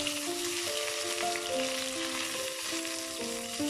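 Chopped onion, ginger and fennel seeds frying in a pan for a Kerala-style fish mango curry, a constant close sizzle with oily crackle and no speech.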